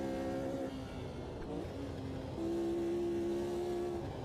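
Audi TT race car engine droning at high revs at Gelleråsen in a racing game, pitch holding then shifting up into fourth gear, loud and continuous.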